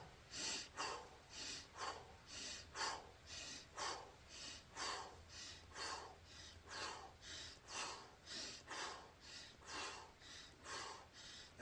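Deep, rhythmic breathing into an injured spot, with steady breaths in and out repeating about every half second to second, close and soft with no talking.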